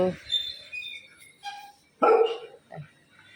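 Pet dogs let outside bark and yip in a few short, separate bursts, with one louder, closer bark in the middle. Stretches of quiet fall between the barks.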